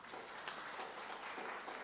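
Quiet applause from a Simalungun-language GKPS church congregation in Depok during a Sunday service, a faint, steady patter of many hands heard from a distance for about two seconds.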